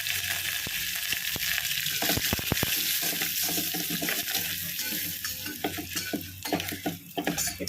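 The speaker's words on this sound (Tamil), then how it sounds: "தாளிக்கு நம்ம பெருங்காயம் போட்டாச்சு" Asafoetida sizzles in hot oil as a tempering for pepper rasam, a steady frying hiss broken by sharp clicks and scrapes of a stirring utensil close at hand.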